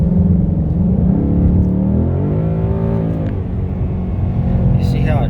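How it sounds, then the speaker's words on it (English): A Ford Mustang drives along, its engine rumbling and rising through a smooth pitch sweep as it shifts gears, heard from inside under continuous talk. "You see how it shifts? And it's holding 4th gear. Now it's downshifting."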